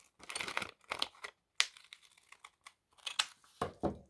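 Paper being cut for a handmade collage, with several short crisp snips and rustles in quick bursts, close and moderately loud, separated by brief pauses.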